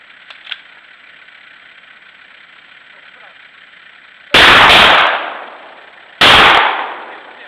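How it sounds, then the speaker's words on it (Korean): Two sharp, loud gunshots ring out against a steady low hum, each blast echoing and decaying on an open forest path on a winter night. "그날 밤 울린 총성"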